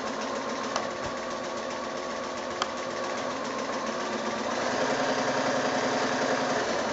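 A sewing machine runs steadily as quilting squares are stitched and chain-pieced, a continuous close whir with faint ticking and a slight rise in intensity toward the end, no talking.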